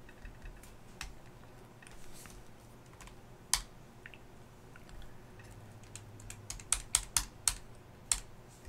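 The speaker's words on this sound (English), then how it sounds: "And then I will type the rest of my document here" Computer keyboard typing a document, with scattered keystrokes early on, then a quick run of sharp, close clicks in the last few seconds, heard alone in a quiet room.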